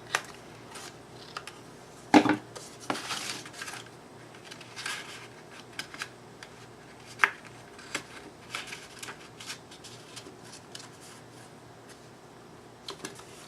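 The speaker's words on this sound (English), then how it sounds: "Let's cut these little tab thingies off." Small paper tabs being snipped off with scissors for a mini album: a few sharp close cuts and rustling paper handling, with quiet shuffling between snips and no talking.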